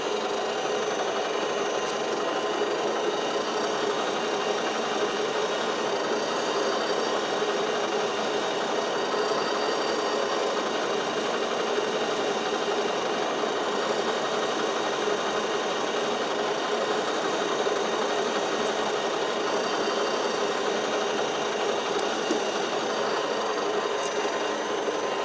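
A metal lathe turning at around 320 rpm during screw cutting, giving a steady, even mechanical whir with a faint hum that holds unchanged throughout, with no voices.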